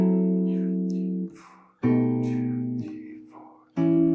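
Three separate minor 7 chords ring out on the middle four strings of a guitar, each played softly together like a piano voicing rather than strummed, sustaining and slowly decaying before the next chord.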